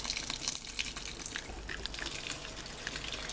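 Water is poured into a spiral dough mixer at a bakery, a steady splashing rush that goes on throughout, close and moderately loud, with no talking.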